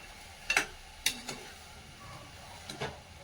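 Soaked dried peas being stirred in a hot pan in a home kitchen, giving a few brief scraping and clattering strokes with a faint sizzle underneath, close and fairly quiet.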